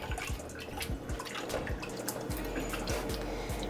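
A whole chicken is stirred around in salted water, the sloshing and splashing steady and close, with repeated low swishes as the water is churned.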